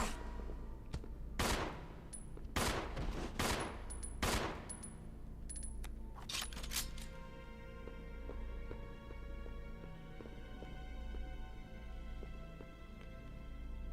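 Several sharp gunshots from the video game Resident Evil 0 ring out in quick bursts over the first seven seconds, each followed by a ringing tail, and then the shots give way to a steady, lingering ambient hum with no talk.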